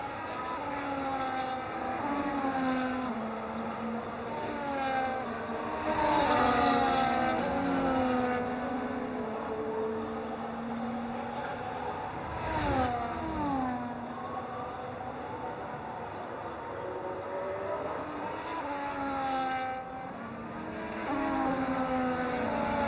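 F1 cars on a formation lap at the Austrian GP in the racing game F1 25 whine with high, gliding engine notes that rise and fall as they pass, several overlapping at moderate distance, with someone talking throughout.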